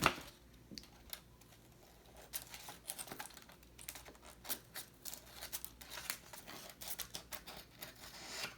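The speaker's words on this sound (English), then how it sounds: "So you want to cut off any excess that you have." Scissors trimming excess paper from a removable tattoo sheet, quiet crisp snips and paper rustles in an irregular run of short cuts, close and soft.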